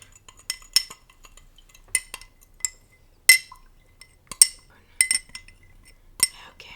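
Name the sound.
vigorously stirring lemonade with honey in a glass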